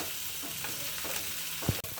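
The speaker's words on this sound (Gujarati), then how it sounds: "હવે આ બધી જ વસ્તુને આપણે 1 મિનિટ માટે સાતળી દઈશું, જેથી આનો બધો કાચો ફ્લેવર હોય એ દૂર થઈ જાય" Garlic and onions sizzle in hot oil for dal tadka, a steady frying hiss broken by soft stirring scrapes and a brief clunk of the utensil near the end.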